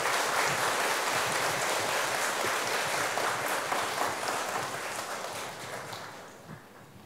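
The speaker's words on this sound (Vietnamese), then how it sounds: "xin dâng cao tràng vỗ tay thật lớn để tán dương các thầy cô giáo" A long round of audience applause for the teachers at a gratitude ceremony in a Vietnamese Buddhist temple. Dense, even clapping in a large hall holds steady and then slowly fades over about seven seconds.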